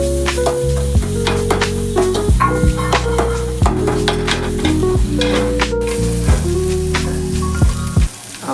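Samosa filling being stirred in a pan with ginger-garlic paste, turmeric and other spices, a steady close sizzle with repeated scraping strokes of a spoon against the pan under a humming background tone.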